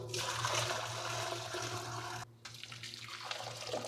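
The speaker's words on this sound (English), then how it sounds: "I'm just gonna strain this into another pot, rinse this pot out, and then put the dye water back into this pot." Natural dye water pours and splashes as it is strained from one pot into another, a steady loud stream that breaks off briefly and then resumes.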